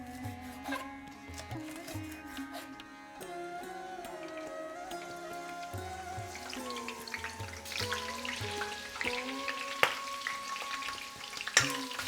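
Split hot chilies fry in oil, giving a soft continuous sizzle with scattered crackles and pops, plus occasional clinks of a utensil.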